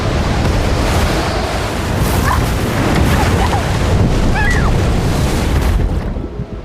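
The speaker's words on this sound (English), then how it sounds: "Waves like mountains, thunder splitting the sky." Stormy sea waves roar loud and unbroken with deep rumbling thunder mixed in, a dense wall of noise that fades out abruptly at the end.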